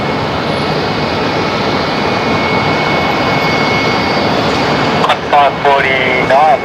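A jet aircraft that has just landed at Brisbane Airport roars loud and steady with dense broadband engine noise, and a voice briefly breaks in over the rumble near the end.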